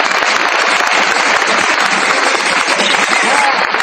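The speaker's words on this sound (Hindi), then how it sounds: "एक बार इनके सम्मान में जोरदार तालियां बजाएं।" Loud, dense applause from an audience at a meeting, steady clapping filling the whole stretch without a break.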